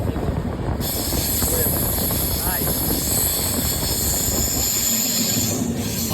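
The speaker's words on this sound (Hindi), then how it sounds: "ये देखो एकदम बढ़िया ट्रेन मुड़ रही है यहाँ से" A passenger train travelling from Pune to Goa rounds a railway curve, heard from near the carriage door as a loud, continuous rumble of wheels and clatter with a high, steady squeal of wheels on the bend, with no talking.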